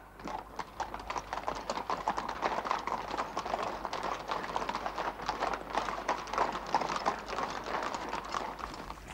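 Rapid, irregular hoofbeats patter continuously, like several horses galloping at speed, fairly close and steady throughout with no clear voices.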